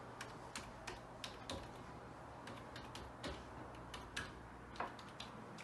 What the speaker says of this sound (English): Let's go ahead and type in the password.